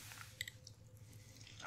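Close, quiet chewing of a vegetarian meal, with soft crunchy bites and moist mouth sounds in a brief, intimate recording.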